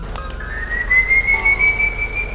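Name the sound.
distant whistled melody, sound effect in a horror story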